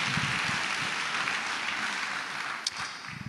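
Sustained applause from a crowd fills the whole stretch, dense and steady, fading slightly toward the end.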